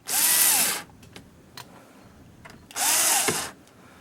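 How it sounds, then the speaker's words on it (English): A power drill drives screws into a bracket on an arcade marquee panel, two bursts of high whining motor about a second each with a pause between, close and clear, with small clicks of handling in the gaps. "I'll go ahead and I'll put my screws in"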